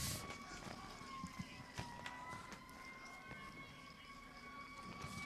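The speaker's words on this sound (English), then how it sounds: "I hear sirens now." Faint emergency sirens wail far off with a steady rising and falling tone near a small-town Texas high school football playoff game, alongside a low rumbling background.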